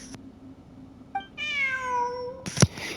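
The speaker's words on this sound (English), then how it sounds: "Look, a cat." A cat in the video game Genshin Impact, in the Sumeru region, lets out a single clear drawn-out meow up close, preceded by a brief chirp and followed by a sharp thump.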